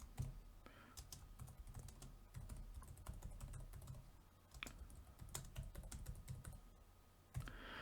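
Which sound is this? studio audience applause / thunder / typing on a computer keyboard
typing on a computer keyboard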